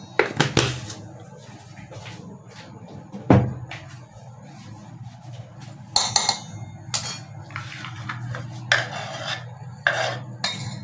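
A metal spoon scoops roasted gram flour (sattu) into a bowl, giving half a dozen sharp clinks scattered over a low background hum, close up with no talking.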